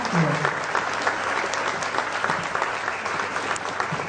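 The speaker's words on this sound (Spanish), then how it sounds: "vamos a pedir un aplauso por este trabajo" A crowd at a bilingual intercultural education gathering breaks into sustained applause, dense and steady clapping filling the room for the full stretch, with a faint voice briefly audible near the start.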